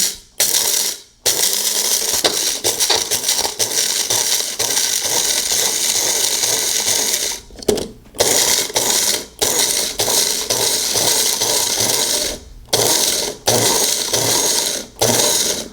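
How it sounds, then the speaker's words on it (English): A Magic Bullet blender grinds coffee beans in loud, close pulses: several rattling, whirring bursts separated by brief silences, with no talk. "your coffee beans are now refined into your own freshly ground coffee"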